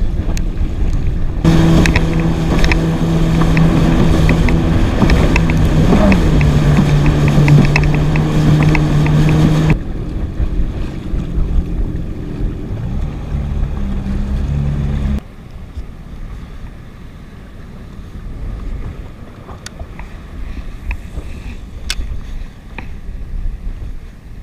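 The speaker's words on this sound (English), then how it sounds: "It's actually quite windy down here," Wind buffets the microphone while a jet ski out fishing at sea runs, a loud steady engine drone with a rising and falling pitch for the first half, then quieter rushing wind and water noise.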